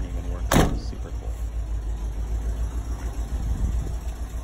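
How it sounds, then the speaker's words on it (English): A 1978 VW Westfalia poptop bus rolls up a driveway with a steady low engine rumble, a brief sharp knock or door-like clunk near the start, and faint background hum throughout. "this is me from the trailer driving it up into my driveway"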